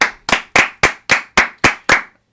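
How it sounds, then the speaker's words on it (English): Eight crisp, evenly spaced hand claps on a baseball podcast, each sharp and close with a short decay, in a steady rhythm before abrupt silence. "One more final round of applause."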